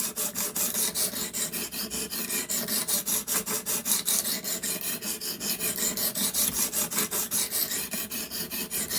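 A D2 steel knife blade is drawn across the abrasive on a WorkSharp Precision Adjust sharpener, giving a rhythmic series of close, gritty rasping strokes, evenly spaced and repeated steadily without talk.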